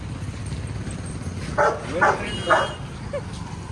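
A dog named Chiku gives three short, close barks about half a second apart, then a softer yip, over a steady background hum.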